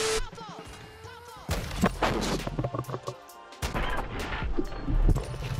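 Sniper rifle shots and crashing impacts from the video game Call of Duty MWII ring out sharply amid game effects and rumbling, with a few loud bursts spread across the moment.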